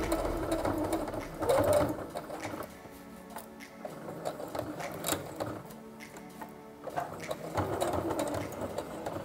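A Brother sewing machine topstitches along a velcro edge while a dog garment is being made. The needle chatters rapidly and closely in bursts of stitching with short pauses between them, and no one talks.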